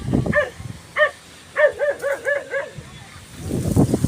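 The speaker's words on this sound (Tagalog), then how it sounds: "Ay asong tumatahol." A dog barks outdoors in a rural yard where ripe fruit is being harvested, a few separate yips followed by a quick run of five rhythmic barks, fairly close, with someone talking before and after.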